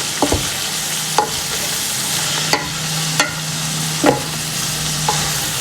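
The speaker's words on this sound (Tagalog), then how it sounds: "Gisa-gisa lang natin siya." Food being sautéed in a pan, a steady sizzling hiss broken by several sharp scraping stirs of the spatula, close and moderately loud with no talking.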